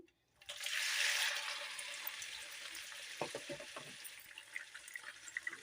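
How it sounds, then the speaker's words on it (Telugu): Cleaned raw prawns dropped into heated oil, giving a sudden loud hissing sizzle that settles into a steady fry with scattered crackles and pops. "ఆయిల్ అయితే హీట్ ఎక్కింది మనం క్లీన్ చేసి పెట్టుకున్న ప్రాన్స్ అయితే వేసుకుంటున్నాను"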